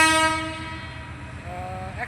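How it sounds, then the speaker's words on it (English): A train passes near a public transit area by an airport, its horn blaring loud with strong harmonic tones at the start, fading into rolling rail rumble, then a second shorter horn note near the end. "this is a train"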